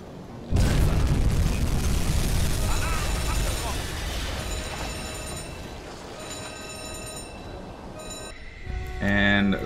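A torpedo hits a cargo ship in the submarine game UBOAT: a sudden loud boom, then a long rumbling roar that slowly fades, with some in-game tones near the end.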